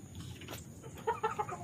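A rooster or hen clucks in a few short, bright bursts near a farm hut in the early morning, with a low background rumble and no speech.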